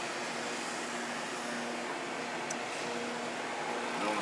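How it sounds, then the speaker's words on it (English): A peanut trailer dryer blows air in a steady, loud, unbroken roar with a faint hum, heard at a peanut mill in Boston, Georgia. "And they hook the dryer too."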